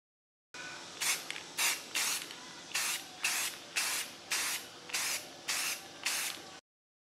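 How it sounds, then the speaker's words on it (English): Airbrush or spray gun applying gloss white paint to the inside of a model jet's elevator assembly, heard as nine or ten short, close hissing bursts with brief pauses between them, crisp and alone. "So first we spray the gloss white on the inside"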